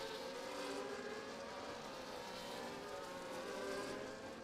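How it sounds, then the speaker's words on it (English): F1 24 race cars lap under safety car conditions at the Azerbaijan circuit, producing a continuous, even drone of engines with no talk. "we're going to do another full lap under safety car conditions"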